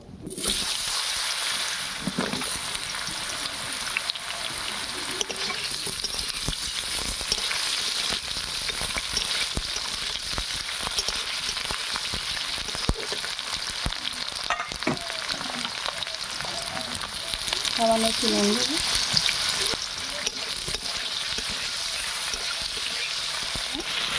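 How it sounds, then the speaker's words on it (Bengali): Potatoes fry in hot oil in a pan with a steady, loud sizzle throughout, occasional stirring, and brief talk partway through. "এবারে আলুটা হালকা করে একটু ভেজে নেব"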